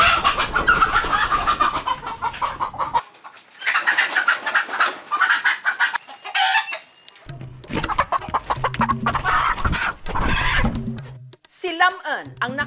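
Native chickens clucking and squawking in bursts as they are caught early in the morning, close and loud, with other birds also sounding; a few short breaks fall between the flurries.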